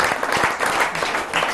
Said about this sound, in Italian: facciamo un applauso a Madù